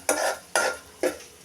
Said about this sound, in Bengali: কড়াইতে তেল দিয়ে পেঁয়াজ দিয়ে দিলাম।